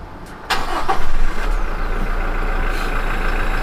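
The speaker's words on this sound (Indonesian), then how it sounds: "Kemudian kita akan coba hidupkan kendaraan ya." A turbocharged Toyota car engine cranks briefly and catches, then settles into a steady idle of around 900 RPM, heard loud and close with no talk.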